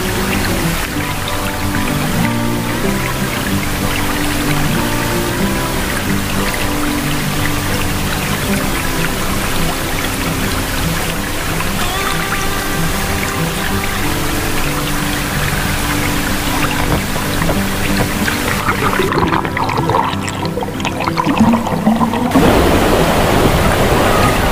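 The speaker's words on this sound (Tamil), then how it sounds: "கொடுத்ததுக்கு ஒர்த்தான வாட்டர் ஃபால்ஸ் கைஸ், வந்து கண்டிப்பாக பார்த்துட்டு போங்க" A waterfall near a rocky spot in the rainy season, a steady broadband rush of falling water that holds throughout, growing slightly louder and rougher toward the end, with no voices.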